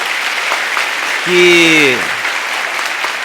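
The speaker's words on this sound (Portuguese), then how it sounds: "uma salva de palmas a toda a equipe organizadora deste evento" An audience at a conference event in São Leopoldo, Brazil, claps in a continuous dense applause, while someone speaks briefly over it.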